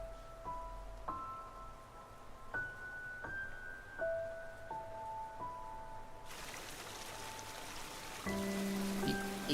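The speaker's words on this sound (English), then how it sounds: "The inky rain." Inky rain in the video game Hollow Knight: a steady soft hiss of rainfall with gentle chiming tones ringing out one after another, the rain thickening and growing louder toward the end.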